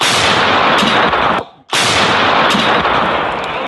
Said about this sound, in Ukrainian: Артилерія батальйону Айдар працює у Бахмуті.